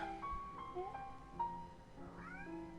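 Domestic cat meowing indoors, several short rising and falling mewls in quick succession, close and moderately loud, with faint room noise and no speech.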